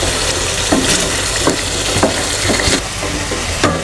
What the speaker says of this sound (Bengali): দেখেন আমি কত সুন্দর করে মাছটা কষা নিচ্ছি।